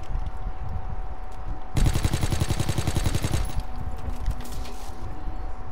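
Grease Gun submachine gun firing in Call of Duty: WWII, a loud sustained burst of rapid, evenly spaced shots lasting about two seconds, then quieter background game sounds.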